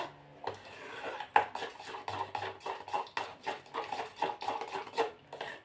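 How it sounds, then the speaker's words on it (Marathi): Urad dal batter for dahi vada is beaten by hand in a bowl, giving close, rhythmic scraping and tapping strokes, about two per second, with a few sharper knocks against the vessel. "असं आपल्याला 2-3 मिनिटांसाठी हे फेटून घ्यायचं, जोपर्यंत पीठ हे हलकं फुलकं होत नाही तोपर्यंत"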